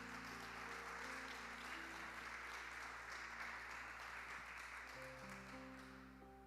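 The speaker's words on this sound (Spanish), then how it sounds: "Denle un aplauso al Señor." A church congregation applauds together in a steady, even wash of clapping while sustained organ or keyboard tones hum underneath, fading slightly at the end.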